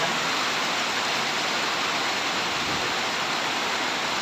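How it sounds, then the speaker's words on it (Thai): Heavy, constant rain beats down outside a house in Kok Tum, looking toward the mountains, a loud unbroken roar of downpour with no voices. "ฝนตกหนักมากนะ ตกตั้งแต่เมื่อคืน"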